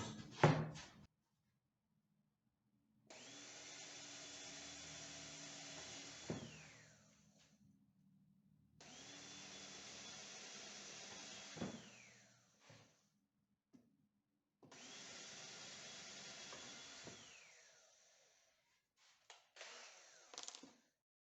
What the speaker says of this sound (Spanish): Vamos a poner 4 tornillos.